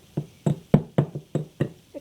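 Plastic kendama ball repeatedly landing in a cup, sharp hollow clacks in a steady series of about eight, close and moderately loud, alone without talk.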